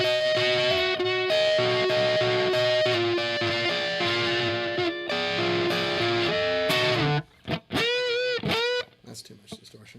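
Distorted electric guitar played through an amp, strummed chords and sustained notes ringing loud and close for most of the stretch, then breaking into bent, wavering notes before fading.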